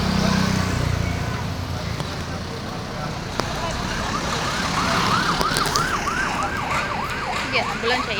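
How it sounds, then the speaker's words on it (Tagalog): An ambulance siren wailing in traffic, starting faint and distant then growing into a clear, repeating rising-and-falling wail over road noise, with people talking nearby as they walk. "Yan, ambulansya yan."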